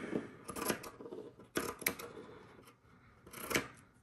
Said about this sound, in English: I'm gonna trim this up